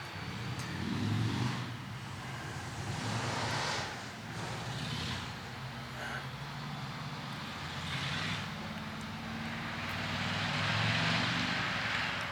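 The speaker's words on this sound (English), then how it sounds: "they love their noisy motorbikes, don't they, around here?" A noisy motorbike passes by outside, a rumbling engine drone that swells and fades over several seconds, heard at a distance through a pottery workshop.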